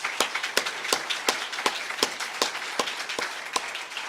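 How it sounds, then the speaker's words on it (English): Scattered audience clapping at a Joshua Tree National Park night sky award ceremony, a modest crowd applauding with distinct sharp claps over a steady bed of smaller hand claps, fairly close and sustained throughout. "Just a round of applause for"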